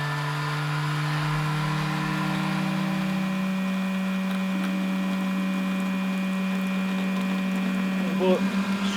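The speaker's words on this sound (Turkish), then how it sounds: "Tabii ki elektrikli krema makinesi otomatikman işte zamanla bize tasarruf sağlıyor." An electric cream separator runs steadily on a mountain-pasture dairy, a loud continuous motor hum with strong tonal whine and no pauses, close and alone throughout.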